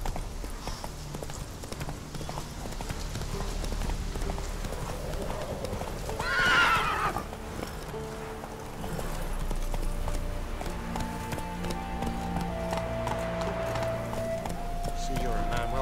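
Hooves clip-clop steadily as a horse gallops through The Witcher 3, a whinny breaking in midway, under game music and voices talking.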